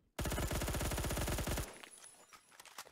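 A Colt SMG 633 fires in Roblox Phantom Forces: one loud, rapid full-auto burst of about a second and a half, then quieter clicks and shuffling sounds.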